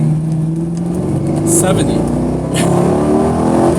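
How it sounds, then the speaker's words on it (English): A car with a stock exhaust revs hard while accelerating from about 40, its engine note droning and climbing loudly, and someone talks over it. "It's a stock exhaust making that rev."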